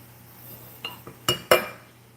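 Sugar is added to a glass quart jar on a kitchen counter, heard as a few close, sharp clinks and taps against the glass, separated by short pauses.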